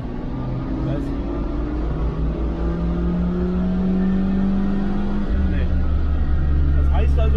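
A vintage Mercedes-Benz engine revs under load in third gear on a dynamometer, a steady droning roar that climbs in pitch and grows louder toward the end, with people talking over it.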